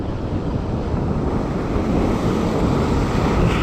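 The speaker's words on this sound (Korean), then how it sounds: "어우 파도" Steady roar of ocean waves churning against a fishing boat off Sydney, mixed with heavy wind buffeting, continuous and loud with no pauses.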